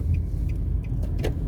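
A car drives along Sutcliffe Avenue in Kingston, Jamaica, giving a steady low road rumble of engine and tyres with a few faint light clicks on top, no talking.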